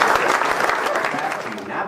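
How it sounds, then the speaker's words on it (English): Audience applause at a mentalist show, a short burst of dense clapping that stays loud throughout, mixed with a little crowd noise and some voices. "Everybody give her a round of applause."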